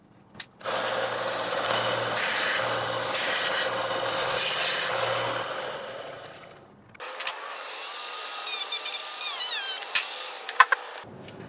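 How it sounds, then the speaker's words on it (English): Wooden whirligig parts are hand sanded, giving a steady, close, rasping rub for several seconds, followed by a brighter scraping and scratching passage. "have to take and sand these up a little bit. Get them all even."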